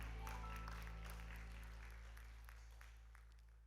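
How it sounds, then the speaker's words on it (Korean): A church congregation applauds during a Thursday evening worship service, with steady, fairly faint clapping over a low, constant hum that slowly fades. "우리 하나님께 영광의 박수 올려드리도록 하겠습니다"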